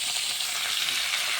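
Salt and turmeric powder frying in a hot pan, a steady bright sizzle running evenly and close for a brief moment with no voices.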